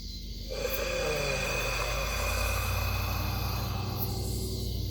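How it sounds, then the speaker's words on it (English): A single forceful, drawn-out breathy tai chi exhale with a low, rough, roar-like growl, close and loud. "So the exhale has a specific sound to it."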